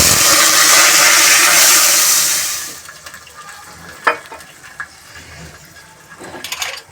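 Water poured into a hot pan of tempered spices (mustard seeds, cumin, bay leaf, cloves, whole red chili) for vegetable khichdi bursts into a loud, broad sizzle for about three seconds, then drops to quiet bubbling with a few small clinks.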